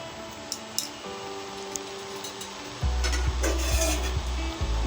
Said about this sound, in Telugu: ఇవి ఒక 5 మినిట్స్ ఫ్రై చేసుకుందాం.